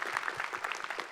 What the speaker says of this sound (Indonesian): Kita boleh berikan tepuk tangan yang meriah